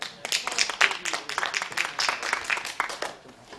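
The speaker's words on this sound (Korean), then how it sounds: "큰 박수로 맞이해 주시기 바랍니다" Audience applause welcoming a doctoral speaker to a women's media and cybersecurity education session in Busan, a dense wash of many hands clapping at moderate loudness, with some voices mixed in.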